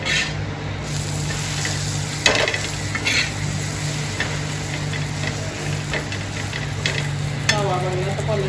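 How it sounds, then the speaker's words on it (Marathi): Buttered pav warms on a hot tava griddle with a constant sizzle and frying hiss. Close by, a utensil makes occasional scraping and clinking sounds, and no one talks. "पावाला असा बटर लावायचा आणि असा तव्यावर टाकायचा गरम करायला."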